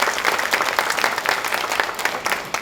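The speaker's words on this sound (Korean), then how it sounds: "큰 박수 부탁드리겠습니다" An audience claps at a public-sector recruitment fair's mock interview session in Korea, with dense, steady applause from a crowd filling the room.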